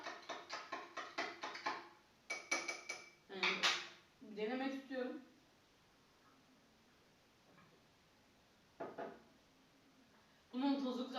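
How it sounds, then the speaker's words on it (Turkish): A spoon clinks and taps rapidly against a cup while Nescafe is stirred, in bright metallic bursts separated by pauses, with a voice speaking briefly between them. "Karıştırıyorum."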